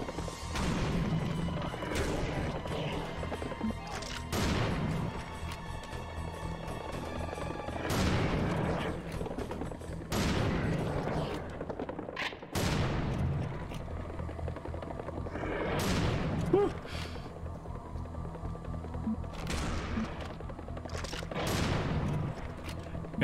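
Video game gunfire in a tough fight: repeated bursts of shots and crashing impacts come in waves over a continuous mechanical drone, fairly loud and close.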